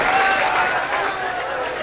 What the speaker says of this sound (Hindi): तालियां बजा दें उनके लिए।